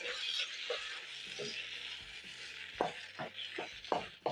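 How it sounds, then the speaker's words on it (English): Green capsicum stirred into minced meat filling frying in a pan for shepherd's pie, a soft steady sizzle with repeated scraping stirs and light clinks, fairly faint and close. "So I'm going to add in my green capsicum at this point."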